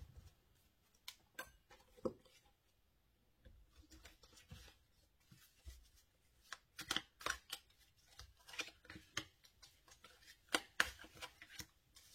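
Oracle cards being shuffled for a reading, with quiet irregular bursts of papery riffling and slapping that grow busier toward the end, close by with no talk.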